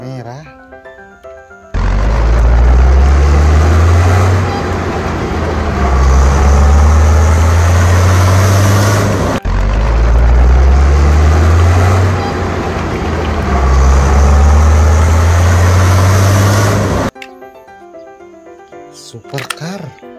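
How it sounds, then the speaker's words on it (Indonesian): A red off-road car's engine rumbles loudly and deeply for a long stretch, with a brief break midway, between quieter passages at the start and end. "Mobil off-road berwarna merah."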